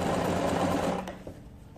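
A sewing machine stitches a bias strip onto a fabric neckline with a steady, close whirring hum that slows and stops near the end.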